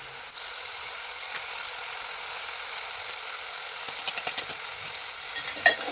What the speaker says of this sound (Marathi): आणि व्यवस्थित असं ह्यांना आपण तेलावर फ्राय करून घ्यायचं आहे।